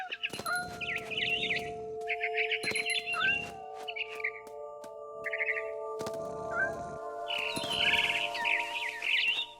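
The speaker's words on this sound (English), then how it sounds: "Then I heard chirping outside my window." Barn swallow in the video game What Remains of Edith Finch chirping in quick twittering bursts over a steady tonal background hum, moderately close, with no talk.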